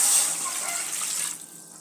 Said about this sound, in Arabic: راح نضيف المي.